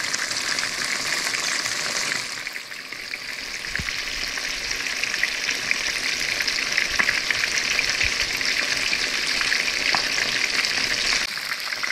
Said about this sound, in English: we got us some French fries we're gonna cook with it also